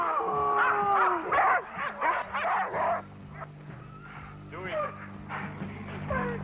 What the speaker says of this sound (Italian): l'abbaiare dei cani, che fremono ormai da tempo